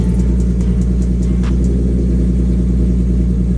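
A Nissan car engine with a homemade exhaust modification rumbles steadily at idle, a loud, deep, continuous drone with faint rattling ticks on top and no talking.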